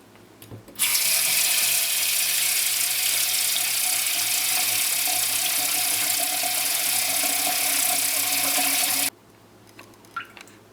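Tap water gushing steadily into a pot of washed sushi rice, a loud, close, even rush that starts abruptly and stops just as suddenly, with a few faint clinks after.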